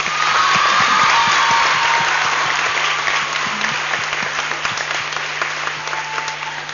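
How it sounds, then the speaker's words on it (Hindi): An audience at a children's dance festival in Mumbai claps loudly for the young performers, a dense steady round of applause that slowly tapers off. "ताली बजाई जाए."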